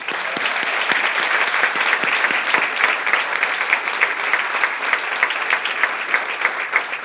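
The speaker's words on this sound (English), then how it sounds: "let's have a big round of applause for our honorees, please" Dense, sustained applause from a large audience at a corporate breakfast honoring honorees, loud and even throughout without any talking.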